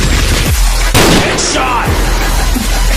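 Shooting video game gunfire crackles in loud overlapping bursts and booms, with a sharp blast near the middle, dense and close throughout with voices mixed in.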